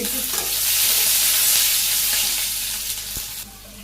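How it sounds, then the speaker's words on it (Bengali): Chopped onion hits hot oil with cumin seeds and bursts into a loud, bright sizzle up close, then settles into steady frying with a few faint stirring clicks. "জিরে ফোড়ন দিয়ে দিলাম পেঁয়াজ কুচি দিয়ে দিই"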